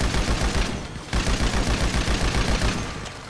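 Rapid gunfire during shooting practice in the video game GTA 5: loud, closely spaced automatic shots in two long bursts separated by a brief pause, with no talk over them.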